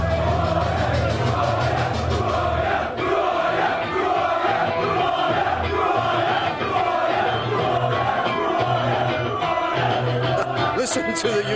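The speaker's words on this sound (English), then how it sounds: "Listen to the UK fans booing and baiting and hissing Vladimir Klitschko." A large crowd of UK boxing fans at a weigh-in roars continuously, a dense wall of booing, jeering and hissing that stays loud throughout.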